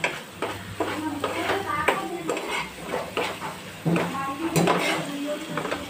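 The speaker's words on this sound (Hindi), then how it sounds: "और भी इसको एक बार हिला के देखेंगे" Aloo sabji gravy stirred in a pan on a medium gas flame, a spoon scraping and clinking against the metal in steady repeated strokes over a faint sizzle, close and clear.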